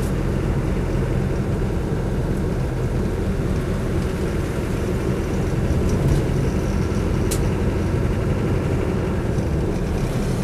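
Inside a Land Rover 90 with a 200TDi diesel, a steady broadband engine and road rumble carries on while the vehicle drives and accelerates. The sound is dense and continuous, with no voices.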